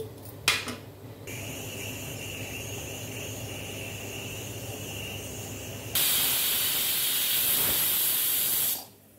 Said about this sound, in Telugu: ఒక్క విజిల్ వచ్చిన తర్వాత మూత తీసాను